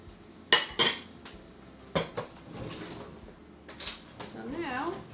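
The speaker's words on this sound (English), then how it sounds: "So now we're going to get our pickle puck out of here however we can." A pickle weight is pried out of a jar of fermenting beets: sharp clinks and knocks of glass and metal, several distinct hits spread out, with a voice talking over part of it.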